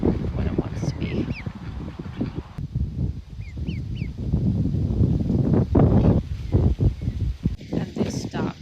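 A pet duck indoors gives a few short honking quacks at intervals, heard over steady household noise and low rumble while people talk throughout.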